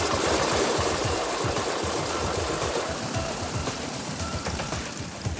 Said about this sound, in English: hand cranks the wooden prop to prime the engine